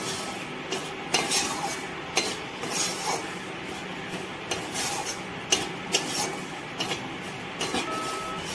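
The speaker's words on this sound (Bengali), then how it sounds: "হয়ে গেছে, আর অনবরত নাড়তে হবে। এর মধ্যে দিয়ে দিব 2 চামচ ময়দা, দিয়েও ভালো করে ভেজে নেব।" Semolina and flour being stirred and fried in a pan, with a steady scraping and rubbing of a utensil against the pan over a continuous sizzle, marked by repeated louder scrapes at an uneven rhythm and no talk.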